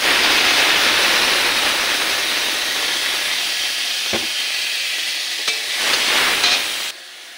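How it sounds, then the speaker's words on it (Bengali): Coriander leaf paste hits hot oil tempered with nigella seeds and sizzles loudly and steadily, with a few stirring scrapes; the frying hiss eases slightly toward the end. "এবার এর মধ্যে ধনেপাতার পেস্টটা দিয়ে দেব।"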